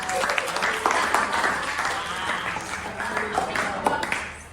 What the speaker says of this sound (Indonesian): beri aplaus untuk Eka